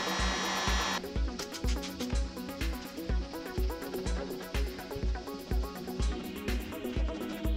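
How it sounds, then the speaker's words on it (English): A heat gun blows hot air onto vinyl trim on a Porsche Cayenne: a steady, close airy rush, strongest in the opening second, over a regular rhythmic pulsing in the background. "so far the only thing that really works is the heat gun"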